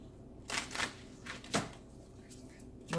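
Tarot cards being shuffled in a few soft, papery riffling bursts, close by and quiet, with brief pauses between them.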